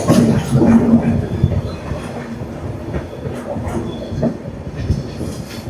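The Himsagar Express rolls into Kollam railway station along a sharp curve, giving a dense low rumble of wheels and carriages with soft clicks and faint squeals that fade slightly as the train slows.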